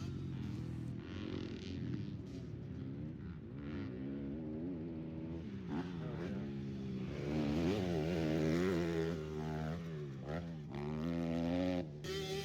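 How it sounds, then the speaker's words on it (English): A Yamaha YZ250 two-stroke dirt bike engine at a motocross track, bogging as it climbs the face of a big jump, a continuous buzzing rev that stays loud throughout and swells near the end. "his bike was bogging up the face of like the biggest jump on the track"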